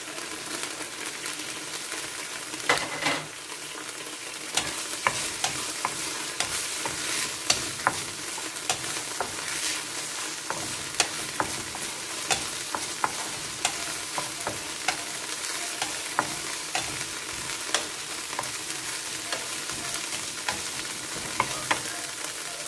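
Chopped onion and garlic sizzle in hot oil in a pan, a continuous bright frying hiss broken by occasional stirring scrapes and pops, with no talk.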